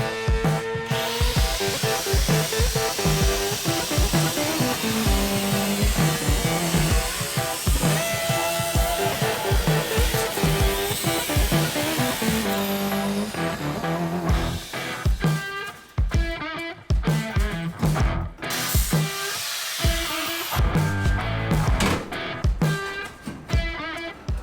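A power tool cuts away old metal from the cowl area of a 1937 Ford Sedan Delivery during a frame swap. The grinding whine runs loud and steady for most of the clip, then breaks into shorter choppy bursts toward the end.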